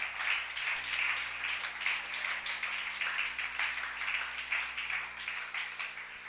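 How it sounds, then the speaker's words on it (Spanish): Church congregation applauding during a Spanish-language sermon, a steady, fairly faint wash of many hands clapping that continues evenly for several seconds, heard from a distance over a low hum. "Dele un aplauso al Señor mientras busco aquí una cita."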